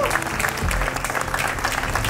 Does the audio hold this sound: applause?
yes